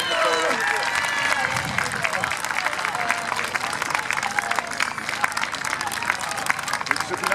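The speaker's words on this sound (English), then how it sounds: "So let's clap her on." Outdoor crowd at a Highland Games strongwoman event clapping in a brisk, rapid rhythm that runs continuously, with crowd murmur and a voice heard faintly over the applause.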